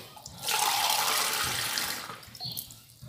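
Water from a mug poured onto couscous flour, a steady splashing pour swelling for about a second and a half, then easing into smaller trickles near the end, with no voices.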